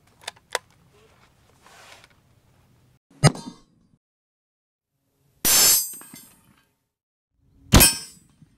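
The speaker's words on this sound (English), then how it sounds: "we're going to shoot it out of Grandpa's hunting rifle" A 30-06 M2 AP round fired from a hunting rifle and striking a 3/8-inch AR400 steel plate, heard as sharp metallic clangs and loud cracks separated by silence, with brief voices in between.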